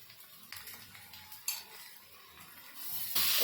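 Onion and masala fry quietly in a pan with a soft sizzle while a spoon stirs and scrapes, giving a few sharp metallic clinks. A louder hiss swells at the very end.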